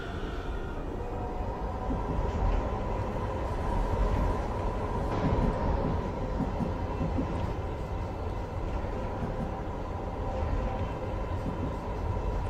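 A Minneapolis light rail Blue Line train in a train simulator game gives off a continuous low rumble with a steady hum, unchanging and fairly loud throughout.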